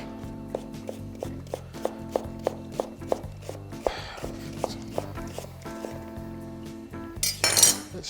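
A sharp knife slices an onion on a cutting board in a series of crisp, evenly spaced taps and clicks, close and clear, with a brief clatter of kitchen utensils near the end.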